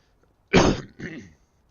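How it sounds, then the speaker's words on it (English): Two rough, throaty post-flu bursts close to the mic, one cough followed by a softer one, with silence before and after. "Sorry if I've got a bit of a cough."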